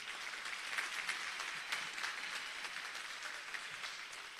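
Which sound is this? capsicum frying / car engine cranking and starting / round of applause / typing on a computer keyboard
round of applause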